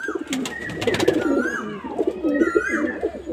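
Close, loud cooing from several fancy pigeons at a home loft runs in rolling overlapping calls, broken early by a quick burst of wing flapping and thin higher chirps.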